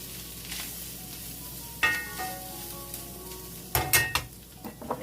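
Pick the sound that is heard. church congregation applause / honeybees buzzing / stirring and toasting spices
stirring and toasting spices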